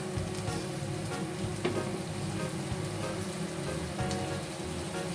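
Meatball stew with added water being stirred in a pan, giving a steady soft sizzle and simmer with faint scraping strokes at an even level throughout.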